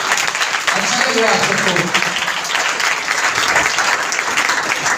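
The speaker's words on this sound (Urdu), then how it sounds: "آپ جو تالی بجاتے ہیں نا" A church congregation claps and applauds loudly and steadily throughout, a dense wash of hand claps while a pastor speaks over it.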